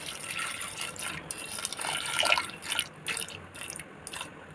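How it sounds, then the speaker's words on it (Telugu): Water being poured into a pressure cooker holding washed lentils (dal) in a home kitchen, a soft steady trickle with small splashy surges and drips, close and fairly quiet, with no talking. "దాంట్లోకి కొంచెం వాటర్ అయితే పోసుకున్నాం"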